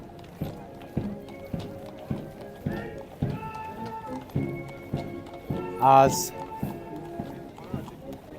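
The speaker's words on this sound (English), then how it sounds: "We have the household cavalry on horseback arriving" Rhythmic clip-clop of household cavalry horses' hooves on hard ground, several animals walking steadily nearby, with a crowd murmuring and a brief louder burst partway through.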